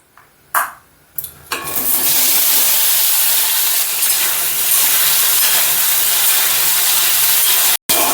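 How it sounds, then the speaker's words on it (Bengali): Pieces of taro and elephant foot yam go into hot mustard oil with a few sharp bursts, then a loud, steady sizzle of frying continues close by without talk. "সর্ষার তেল দেবো কচু আর ওই ওলটা খুব ভালো করে কিন্তু হালকা ফ্রাই করে নেব"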